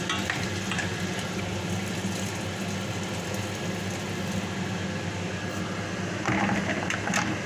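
A chicken wing and potato stew is stirred in a pot, with a steady close sizzle and scraping that runs throughout and swells briefly near the end.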